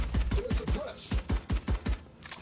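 A rapid burst of gunfire from the video game Valorant, roughly a dozen punchy shots in a quick, slightly uneven rhythm, loud and close, with a brief faint voice mixed in.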